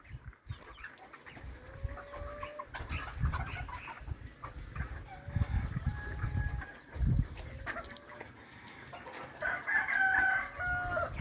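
Several free-range chickens cluck and squawk in irregular bursts while a rooster crows partway through, outdoors at moderate distance with no talking.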